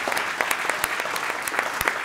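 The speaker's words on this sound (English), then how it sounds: "how about one round of applause for the whole team that we can see" An audience applauds a hackathon team, steady close clapping with a few sharper claps standing out, sustained through the whole stretch.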